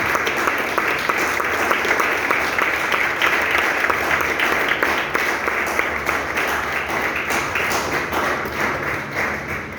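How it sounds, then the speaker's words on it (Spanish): Sustained applause from a church congregation at a Spanish-language service, dense steady clapping filling the whole stretch at close range with no talk over it. "Vamos a dar un fuerte aplauso."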